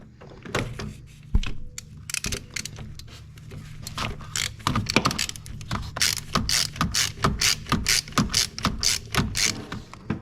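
A ratchet socket wrench clicks steadily as a 10 mm socket works a bolt loose on a Jeep Cherokee XJ, close up, with brisk repeated ratcheting strokes and a few clunks of metal.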